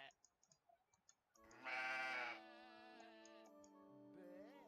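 A person's voice imitates a sheep, giving one long, loud, wavering bleat that fades into a quieter drawn-out tail, after a few soft ticks.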